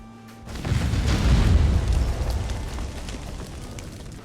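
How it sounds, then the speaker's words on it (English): Bombs blowing open a door in the game Conan Exiles: a deep rumbling blast swells after a short quiet moment, then rolls on and slowly fades over several seconds, loud and low with no voices. "Kind of forgot how many bombs you need for a door."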